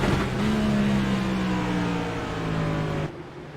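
A race car engine at Martinsville revs hard with a rising tonal whine, shifts up into fourth gear and pulls again before the sound cuts off abruptly near the end; no voices.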